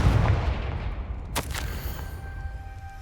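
A Confringo fire spell blast in Hogwarts Legacy lands as a single sharp, bright burst about halfway through, set against a low rumbling game backdrop that fades afterward.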